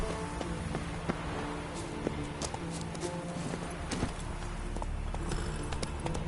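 Roach the horse gallops in The Witcher 3, a quick rhythmic clip-clop of hooves running steadily under an ambient game bed, with no talk.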